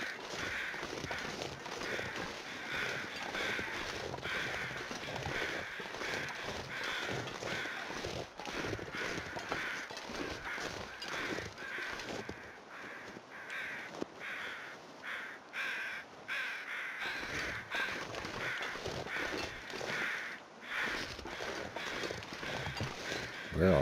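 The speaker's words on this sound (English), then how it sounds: "Where are all those birds?" Crows caw repeatedly in the survival video game The Long Dark, harsh calls spread over a steady outdoor ambience with occasional crunching footsteps.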